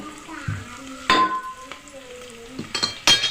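Onions frying for Hyderabadi bagara rice, with a utensil scraping and clinking against the pot in a few sharp strokes over a faint, steady sizzle.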